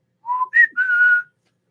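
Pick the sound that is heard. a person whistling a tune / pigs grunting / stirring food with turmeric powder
a person whistling a tune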